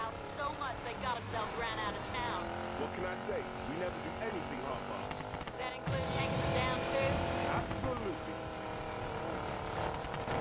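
A Ford Mustang races in Need for Speed Payback, its engine revving and shifting with rising and falling tones, tires squealing at moments, while someone talks over the game sound throughout.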